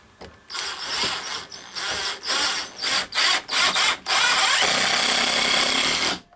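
A power drill drives self-tapping screws into a tiny house staircase in a series of short whirring bursts, then one longer sustained run, loud and close, with no talk.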